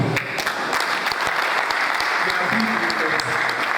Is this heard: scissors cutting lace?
no